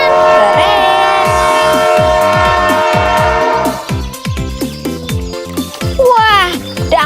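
Toy steam train sounding a bright horn or whistle over repeated rhythmic clacking and plastic knocks, close and loud, while a child-directed voice talks during a toy-washing play session.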